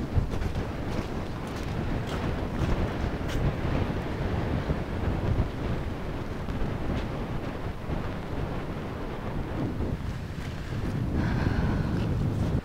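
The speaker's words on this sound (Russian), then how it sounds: "Тут просто очень ветрено" Strong wind buffets the microphone in a steady, loud roar with gusty rumbling throughout, and no voices can be heard, at Kernavė, Lithuania.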